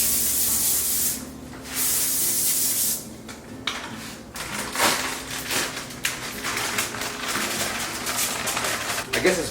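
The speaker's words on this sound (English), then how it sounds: "we're going to spray the pan with some non-stick olive oil" Non-stick olive oil spray sprayed onto a pan in a kitchen during meal prep, giving short bursts of close hissing with pauses between them, followed by quieter clatter.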